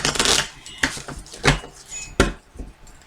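A deck of tarot cards shuffled by hand, giving several quick papery riffles and rustles close by, with no talking.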